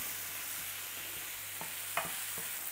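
Salted, spiced meat for chilli con carne fries in a pan, a steady broad sizzling hiss with a few faint stirring taps, close by.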